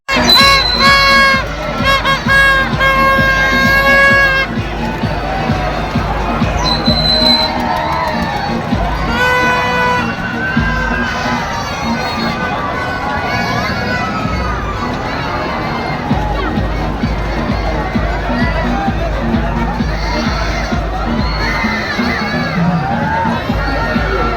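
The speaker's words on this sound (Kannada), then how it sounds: "ತುಂಬ ಅಂದರೆ ತುಂಬಾ ಕ್ರೌಡ್ ಇತ್ತು" Dense crowd noise at a night village fair, with children shouting, cheering and constant babble mixed with music and rides, loud and continuous throughout.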